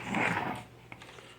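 A puppy, shut away in a pen, lets out a short, fairly close whimpering whine that fades into quieter faint yips.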